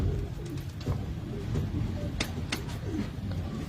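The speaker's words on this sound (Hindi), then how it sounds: "इमरान भी वो कमाल कबूतर आया यार" Pigeons cooing on a rooftop loft in Pakistan, low soft coos repeating under steady outdoor background noise with a few sharper bird calls.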